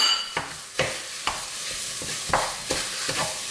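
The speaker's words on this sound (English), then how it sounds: "I'm going to fry this until it goes golden brown basically" Minced beef fries in a pan under a constant close sizzle, broken by sharp scraping knocks of a utensil stirring and breaking it up every half second or so, with no talk.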